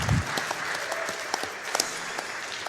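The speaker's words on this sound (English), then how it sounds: "Now the stage is complete. You may clap again." Applause after finishing a stage in the game Freedom Planet, a continuous burst of crowd clapping, fairly even and moderately loud, with a few sharper claps standing out.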